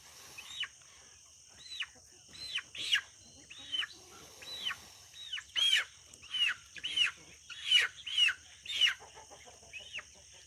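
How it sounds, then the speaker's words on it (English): A chicken hollers repeatedly outdoors at a rabbit colony, a series of about a dozen sharp rising squawks and clucks in an irregular rhythm, moderately close, over a steady faint background hum. "I don't know what that chicken's hollering about."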